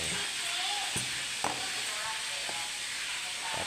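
Fish being stirred in a pot while cooking as paksiw, a steady sizzling hiss with a few soft scraping stirs, close and continuous with no talk.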